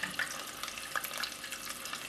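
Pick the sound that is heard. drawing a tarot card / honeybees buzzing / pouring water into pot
pouring water into pot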